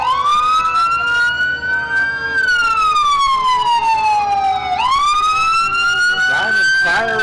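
A fire and rescue vehicle in a small-town Pioneer Days parade sounds its wailing siren close by and loud, the tone rising, falling and sweeping up again continuously over engine rumble.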